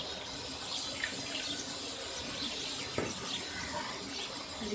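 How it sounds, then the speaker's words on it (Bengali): Water pours into a cooking pot during home cooking, a steady close rushing splash that continues throughout with a brief clunk partway through and no talk. "এবার আমি জলটা দিয়ে দেবো"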